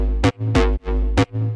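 A thick, saturated sine-wave sub bass drones low while a buzzy bass synth punches in four short bursts, loud and close with no voices.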